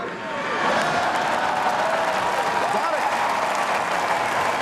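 Loud, sustained applause from a large political convention crowd, dense clapping rising quickly and holding steady throughout with a faint murmur of voices mixed in.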